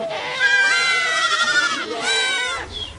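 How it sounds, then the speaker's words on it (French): A herd of goats and sheep bleating loudly and close by, two long wavering cries one after the other, then a brief higher call at the end. "100 chèvres et 80 moutons, c'est toute sa richesse."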